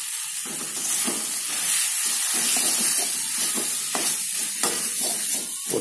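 Idiyappam tossed into a hot pan for egg biryani, giving a steady sizzling hiss with scattered stirring scrapes and clatters close by, and no talking.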